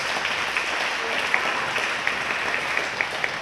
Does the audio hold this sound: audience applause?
yes